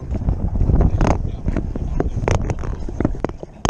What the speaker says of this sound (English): Wind is just so high.